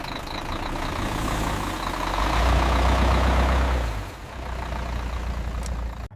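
A truck engine idles and rumbles loudly while backing up at a jackfruit processing factory, with a heavier low surge in the middle before it settles back to a steady drone.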